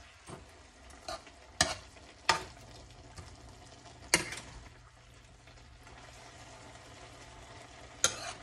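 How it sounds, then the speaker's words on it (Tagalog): Pork and bean sprouts cook on a stove in a pan, a low steady bubbling sizzle under several sharp clanks and scrapes of a utensil stirring at irregular intervals. "Basta kumulo lang siya ng kaunti."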